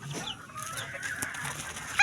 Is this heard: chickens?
yes